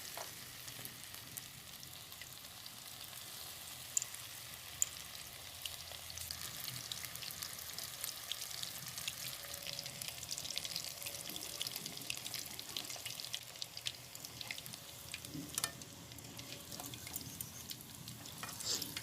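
Chicken pakora pieces fry in hot oil in a village kitchen, a steady close crackling sizzle with occasional sharper pops and faint stirring throughout.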